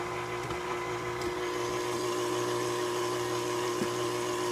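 A blender motor mixing oatmeal cookie dough whirs steadily with a constant hum, running continuously, with occasional faint knocks and no talking.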